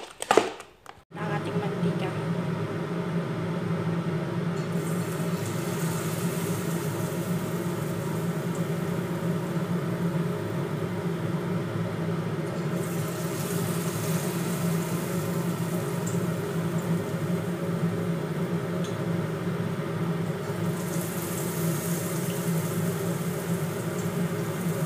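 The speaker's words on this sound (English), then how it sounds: "Ready to fry na po tayo sa ating maruya recipe, guys." Maruya banana fritters sizzle in hot oil in a home kitchen, a steady, even frying hiss that holds for a long stretch after a brief clatter at the start.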